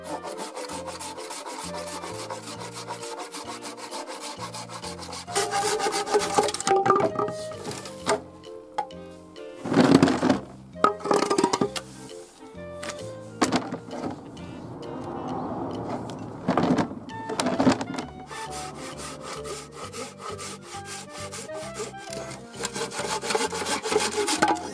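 Rhythmic rasping strokes of a fine-toothed Japanese bamboo saw cutting through bamboo, coming in bursts with short pauses, close by.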